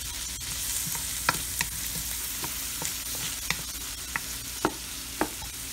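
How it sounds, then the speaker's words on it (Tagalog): Garlic and onion sautéing in a pan, a steady close sizzle and frying hiss with occasional scraping clicks of stirring, no talk over it. "Yan, naigisa ko na yung bawang sibuyas."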